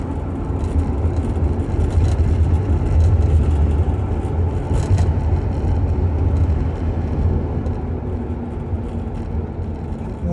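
Pickup truck on the move, a steady low engine drone and road rumble inside the cab, fairly loud and continuous with a slight swell midway.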